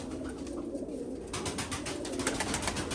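Several pigeons coo softly and continuously close by, with a steady hiss of background noise.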